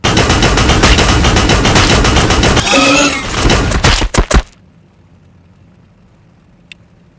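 Heavy stubber fire in Warhammer 40K Battlesector, Tyranids against Astra Militarum: loud, close, rapid machine-gun chatter for about four seconds, a few final separate shots, then an abrupt cut to near silence broken by one faint tick.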